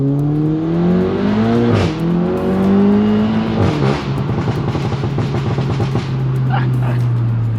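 A Stage 2 tuned Volkswagen MK7 GTI engine pulls hard and loud up close, its exhaust note climbing in pitch through a couple of quick shifts before settling into a steady, sustained drone.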